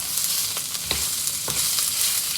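Sausage cooking in a pan over medium-high heat, rendering its fat, giving a continuous close sizzle broken by a few scraping stirs, no voices.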